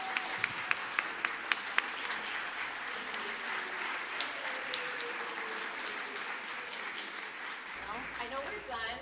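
An audience applauds the artists, a few sharp individual claps at first swelling into sustained steady clapping, while voices murmur underneath throughout.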